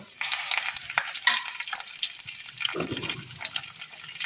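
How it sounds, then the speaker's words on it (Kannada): Urad dal, cumin, curry leaves and mustard seeds are tempered in hot oil for drumstick sambar, sizzling and crackling loudly up close, with spoon stirring and a brief lower bubbling burst near the end. "ಈಗ ಸಾಸಿವೆ ಸಿಡಿಬೇಕದು."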